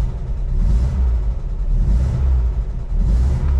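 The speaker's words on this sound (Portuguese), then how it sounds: "Aí, vou acelerar" A 1974 Volkswagen Brasília engine revs inside the closed cabin, a muffled, steady low rumble that swells in three rising pushes of the throttle. No one talks over it.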